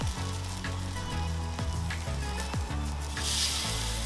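Egg-dipped bread sizzles on the hotplate of a Weber Q1200 gas grill as French toast, giving a steady close frying hiss with a few faint clicks and no talking.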